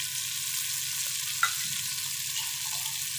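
Chicken frying in oil on a tawa, a steady close sizzle with a single faint clink of stirring partway through.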